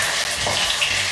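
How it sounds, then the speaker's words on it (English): Tofu deep frying in hot oil, a short burst of bright, steady sizzling heard close. "just deep fry this"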